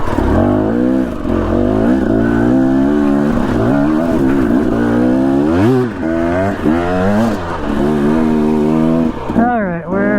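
An off-road vehicle engine revs hard while pushing through deep sand on the Council Mountain trail loop, a loud, continuous drone whose pitch rises and falls in repeated surges over the whole stretch.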